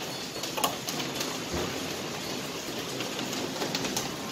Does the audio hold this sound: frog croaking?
no